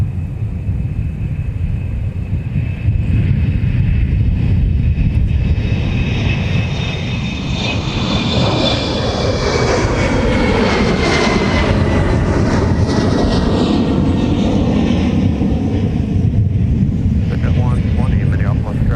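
Airliner departing runway 30 Left at Minneapolis–Saint Paul airport, a loud sustained engine roar with rising whine and rumble that sweeps past nearby, while radio voices talk over it.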